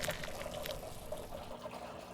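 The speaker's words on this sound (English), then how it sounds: "So let's get this poured real quick here." Home-brewed malty beer pours into a glass in a soft, steady liquid trickle with faint fizzing, heard close up and quiet.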